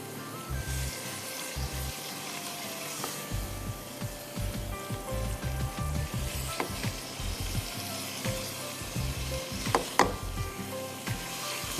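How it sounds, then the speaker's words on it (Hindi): Beef pieces browning in masala for haleem give a steady close sizzle with scraping, stirring strokes and a few sharper knocks of a utensil against the pot throughout, no voices. "मसाले में गोश्त को अच्छी तरह भूनिए"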